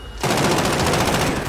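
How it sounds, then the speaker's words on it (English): A sudden, loud, sustained burst of automatic gunfire in Call of Duty: Warzone, starting after a brief pause and rattling on continuously to the end. "Move, they're shooting."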